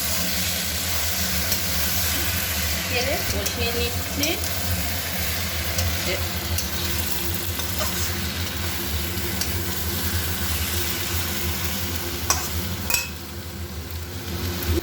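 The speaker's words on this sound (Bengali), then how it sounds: "আমি ভেজে রাখা চিংড়ি মাছ দিয়ে দিচ্ছি, দিয়ে ভালো করে কষিয়ে নেব" Fried prawns sautéed in a spice masala for chingri dopeyaja, a steady close sizzle with intermittent stirring scrapes over a low continuous hum.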